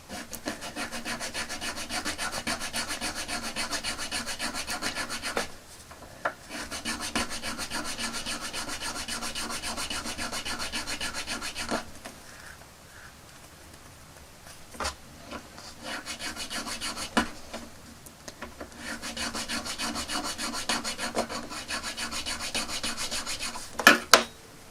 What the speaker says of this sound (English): just going to very carefully do the same again, file down this a little bit to make it more of a hook